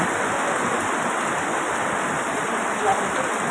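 Steady rain in Silang, Cavite, a dense, even hiss of falling water that holds constant and fairly loud throughout.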